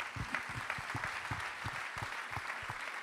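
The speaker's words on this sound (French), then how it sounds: "On peut l'applaudir, Julien Pavillard." Audience at an events-industry awards night in Lyon clapping for a guest, moderately loud, with distinct individual claps standing out over a steady crowd wash.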